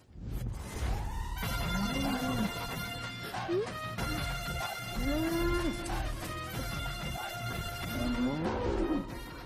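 A bull gives several deep, drawn-out moos that bend upward, spread across the clip over a busy background with music-like tones and faint voices.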